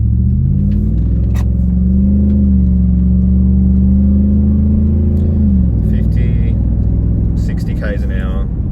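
A Y62 Nissan Patrol fitted with a Manta cat-back exhaust pulls away and cruises, its deep steady engine drone rising in pitch then settling, loud and close, with brief clicks and a voice near the end.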